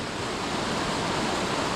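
Rushing waterfall on the Middle Prong Trail, a steady, dense broadband roar of falling water that stays constant and fairly loud throughout, with no voices.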